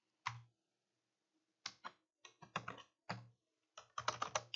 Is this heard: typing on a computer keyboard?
yes